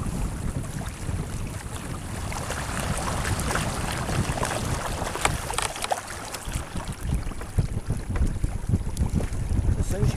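A sailboat moving under wind while the sail is eased out, with steady wind noise buffeting the microphone and water rushing along the hull throughout, continuous and close, with no clear talk.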